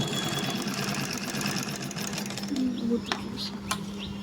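A picot sewing machine stitching along the edge of a sari makes a steady, fairly quiet mechanical whir that runs throughout, joined by a few light clicks toward the end.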